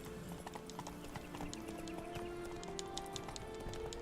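A horse trots in a video game, quick clip-clop hoofbeats repeating steadily at moderate volume over soft background game sound, with no speech.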